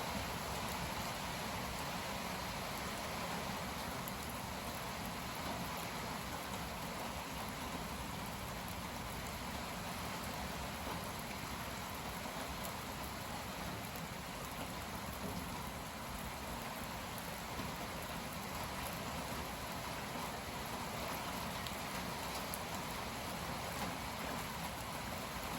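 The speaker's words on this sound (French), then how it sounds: "Il y a des grosses pluies." Heavy rain pours steadily during a cold front with strong wind, a dense even hiss that holds at the same loudness throughout, with no voices.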